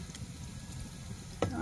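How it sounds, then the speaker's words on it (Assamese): Cashews frying in ghee with cinnamon and cardamom give a soft, steady low sizzle, with a couple of sharper crackles or utensil touches near the end. "ৰঙা হোৱালৈকে ভাজি ল'ম কাজুখিনি"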